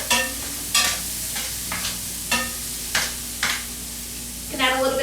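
Beet greens with pancetta cook in a frying pan, giving a steady close sizzle broken by regular scraping stir strokes about every half second; a brief voice comes in at the very end.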